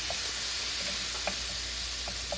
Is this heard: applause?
no